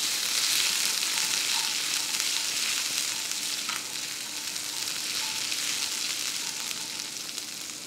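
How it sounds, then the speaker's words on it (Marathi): Mustard seeds and crushed garlic fry in hot oil, making a dense, even sizzle that runs throughout and eases slightly in loudness midway, with no voices. "मोहरी, त्यामध्ये बारीक ठेचलेलं लसूण, याला छान परतून घ्यायचं"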